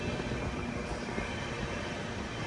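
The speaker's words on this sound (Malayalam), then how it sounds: "ട്രെയിൻ ഇതാ കാഞ്ഞങ്ങാട് റെയിൽവേ സ്റ്റേഷനിലേക്ക് എത്തിക്കൊണ്ടിരിക്കുകയാണ്" Vivek Express train rolling into Kanhangad railway station, a steady broadband rumble of wheels and carriages, fairly close and continuous, with no voices.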